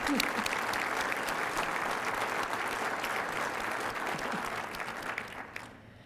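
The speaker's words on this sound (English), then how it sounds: "Let's give them a round of applause." A crowd applauds at the unveiling of a Ronald Reagan statue at Reagan National Airport. A full, sustained round of clapping stays loud and even, then thins out toward the end.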